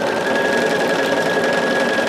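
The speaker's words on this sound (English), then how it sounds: "I'm just sewing." A sewing machine stitches steadily and continuously at close range, a dense even whir with a faint high tonal whine, running unbroken and alone throughout.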